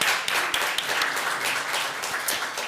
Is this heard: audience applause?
yes